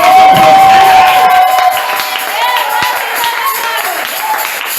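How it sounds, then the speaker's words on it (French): A church congregation at a special French-language service cheers and claps for the Lord, a loud crowd roar of shouts, whoops and clapping, strongest at the start and easing slightly but staying full throughout. "Est-ce que vous pouvez donner une acclamation pour le Seigneur?"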